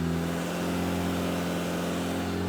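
A Honda Fit with a swapped K24 engine runs at a steady 3,000 RPM on a dyno, a constant loud engine drone with a low, even hum and no speech.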